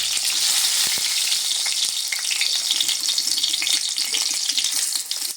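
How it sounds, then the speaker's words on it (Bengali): Stuffed eggplants sizzle and crackle steadily in very hot oil, a loud, dense frying hiss with light spattering pops close by, no voices. "তেলটা খুব ভালো মতো গরম হয়ে গেছে। এবার আমি এক এক করে বেগুনগুলো দিয়ে দেব।"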